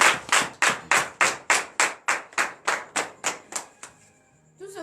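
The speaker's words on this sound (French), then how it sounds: "Donnez de vive acclamation à cette parole." A congregation at a Tuesday morning prayer service in Benin claps in unison, about a dozen sharp, evenly spaced claps in steady rhythm that fade out, with a low voice coming in at the end.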